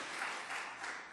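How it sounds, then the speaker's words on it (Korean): Church congregation at a Sunday worship service in New Jersey applauding the choir, a brief, fairly soft wash of many hands clapping together. "우리 다시 한번 박수 하시겠습니다"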